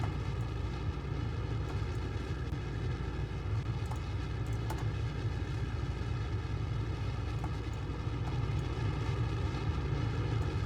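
In Kerbal Space Program, a rocket engine throttles deep in the lower atmosphere, a continuous low rumbling roar with a steady droning tone and occasional faint clicks.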